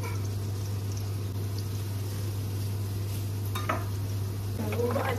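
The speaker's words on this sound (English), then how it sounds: "So all the onions have gone in. And gonna sweat these off" Onions sweat in a pan for a home chicken biryani, a low steady hiss under a constant hum, with a few faint utensil clinks and scrapes toward the end, no talking.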